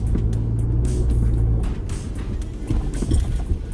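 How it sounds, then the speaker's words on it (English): A Ford Bronco engine works hard climbing an offroad trail, a loud continuous low rumble that shifts and surges as the vehicle moves, heard close without talk. "Time to take a nice little trail up and down. Work this motor."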